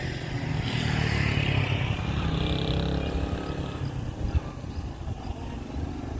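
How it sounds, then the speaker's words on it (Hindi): Motorcycle engine droning while riding on a road near Fort Monroe, loudest at the start and then easing off and fading slightly as it goes, with some clatter and no talking. "और यह है मेरी मोटरसाइकिल।"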